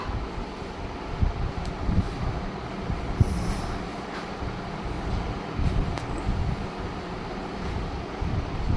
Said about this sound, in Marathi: पंख्या चालू आहे ना पंखा भरभर भरभर भरभर त्याच्यामुळे त्याचा आवाज येत असेल व्हिडिओ मध्ये